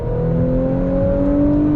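Audi B9 S4 with its 8-speed automatic transmission accelerating hard, a loud, steady engine drone whose pitch climbs smoothly and drops briefly around a quick gear change, with no talking.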